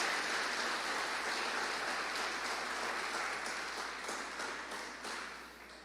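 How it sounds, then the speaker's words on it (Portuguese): Church congregation applauding, a dense steady wash of clapping at moderate distance that slowly fades toward the end. "Bate palmas para Jesus."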